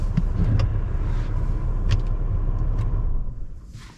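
A Volvo S80 3.2 Summum engine idles with a steady, even rumble, then cuts off near the end, leaving only a brief fading hum and a few faint clicks.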